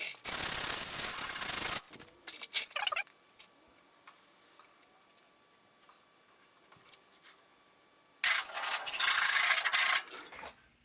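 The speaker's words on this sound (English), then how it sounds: "I just went to sand this out and try and get rid of these little dimples here" Hand-sanding body filler on a car's body sill to remove small dimples, two close bursts of harsh abrasive rubbing strokes separated by a quiet pause with light handling taps.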